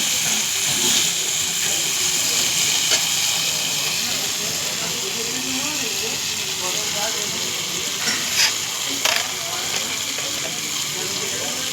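Tomatoes frying in a pan until they soften, giving a continuous hissing, steamy sizzle at close range with faint clinks and a few scraping strokes over it.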